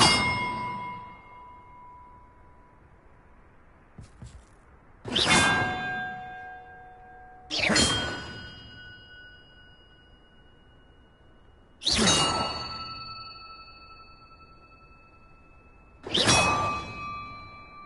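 Large bells in Hogwarts Legacy ring one at a time, five loud resonant clangs spaced a few seconds apart, each with a long shimmering decay, with a faint whoosh between strikes.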